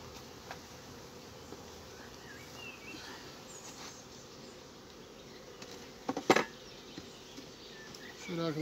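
Steady, faint buzzing of many honey bees at a hive fills the air, with a few scattered knocks and a louder rustle near the end.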